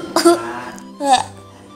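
Two harsh, close coughs about a second apart, loud and alone in a quiet room.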